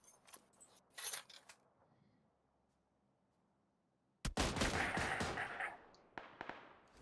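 Gunshots in PUBG Mobile: a couple of short cracks early on, a lull of near silence, then a sudden loud burst of sustained fire followed by a final sharp shot.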